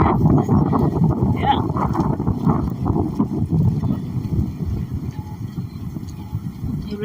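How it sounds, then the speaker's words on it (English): Strong wind roars steadily through a snowstorm in Ottawa, a dense continuous rush with gusty swells over several seconds, close and loud against the microphone, with faint voices in the background. "And it's getting really windy."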